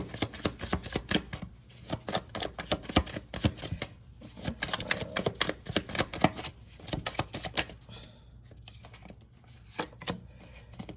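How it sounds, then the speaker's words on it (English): Tarot cards being shuffled by hand, a rapid run of close crisp riffling flicks and slaps that pause briefly and start again, with no talking. "Let me get one last card out."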